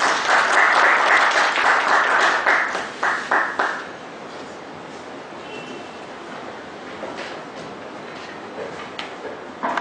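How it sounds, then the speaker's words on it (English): An audience claps loudly for a speaker at a talk on forex transactions and derivatives, the applause thinning into scattered claps after about four seconds and lingering faintly in the room. "Big applause to the speaker, Praveen C.G."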